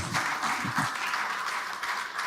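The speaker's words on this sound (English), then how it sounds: "I thought we were giving a round of applause for that." A conference audience at an energy industry summit gives a round of applause, a dense, steady wash of clapping that fills the whole moment at moderate distance, with a few stronger hand claps standing out near the start.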